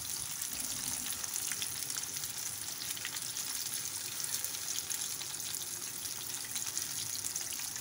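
Eggplant pieces frying in oil, a steady dense sizzle with fine crackling that carries on evenly and close, with no voices.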